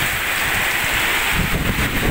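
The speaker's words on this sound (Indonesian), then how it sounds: "Memantau keadaan hujan yang luar biasa mengerikan." Heavy rain with strong wind, watched from a rooftop during a severe storm: a steady, loud broadband roar of downpour and gusts fills the whole stretch, with no voices.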